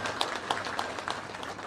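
Audience clapping at a political meeting addressed by Chief Minister Chandrababu Naidu, a steady patter of many hands at moderate distance, brief and fairly even throughout.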